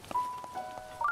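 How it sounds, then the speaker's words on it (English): Light rain patters faintly in a Zelda game, with soft scattered taps over a quiet background and thin sustained tones from the game. "Oh, rain, go away."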